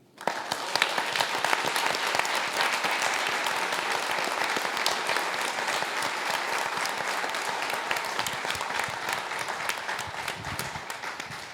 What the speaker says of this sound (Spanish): Un aplauso para Diana.